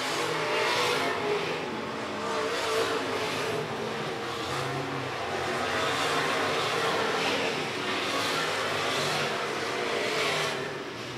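Late model race cars roar around the I-76 Speedway oval in a continuous loud engine drone that swells and fades as cars pass, with a faint announcer voice under the noise.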